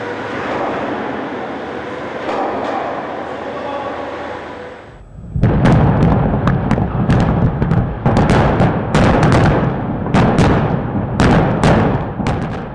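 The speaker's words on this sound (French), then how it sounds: "Au tunnel de Bussière, les mineurs chargent le dernier tir pour le percement final." Final breakthrough blast in the Bussière tunnel on the A89: a low rumbling hum, then a sudden loud explosive burst followed by a rapid series of sharp cracking detonations echoing through the tunnel.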